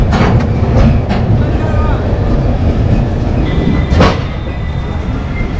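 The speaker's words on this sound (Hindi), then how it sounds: "ये हमारी ट्रेन ऑन टाइम डिपार्ट हो चुकी है प्लेटफॉर्म नंबर 3 से लखनऊ के 9:26" The Pushpak Superfast Express pulls away from platform 3 at Lucknow with a loud, close, continuous rumble of rolling wagons, a few sharp clanks and a brief squeal, and a voice talks over it.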